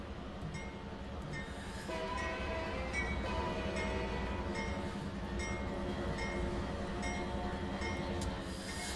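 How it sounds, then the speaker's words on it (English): A BNSF mixed freight train in the Trainz 22 railway simulator rolls along with a steady, loud rumble and dense rail noise throughout, fairly close, with no talking. "Let's get this BNSF mixed freight going."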